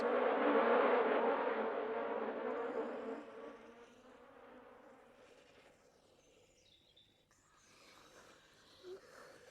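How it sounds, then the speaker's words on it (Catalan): A swarm of troublesome bees buzzing, a dense loud drone that fades to a softer hum over several seconds, with no talking. "Li demanaré al Benjamí Conill que m'ajudi a fer fora aquestes abelles pesades."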